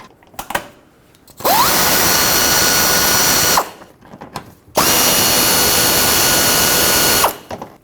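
A power drill removes a 10mm bolt from a Ford F-150 fender in two long, loud, steady whirring bursts, each lasting about two seconds, separated by a brief pause with small clicks and handling noises.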